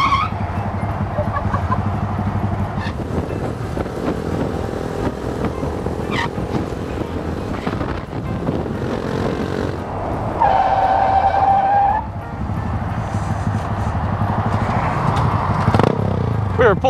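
Honda Grom motorcycles ride along a road in a group, their small engines droning steadily under heavy wind rush, with a short high-pitched whine standing out partway through.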